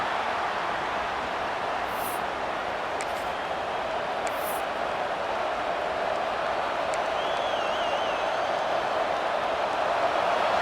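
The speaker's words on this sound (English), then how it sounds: "this crowd coming to life here, trying to help the defense get a stop with the offense pinned back" Stadium crowd cheering and roaring in College Football 26 during a Nebraska vs Washington game, a steady, loud wash of noise throughout with a few brief sharper bursts rising above it.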